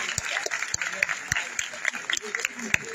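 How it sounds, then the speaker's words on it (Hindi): Audience applause at a university convocation degree-awarding ceremony, a steady wash of clapping with sharper individual claps standing out, fairly distant and moderate in level. "तालियों की आवाज कम नहीं होनी चाहिए."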